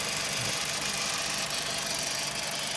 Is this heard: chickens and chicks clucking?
no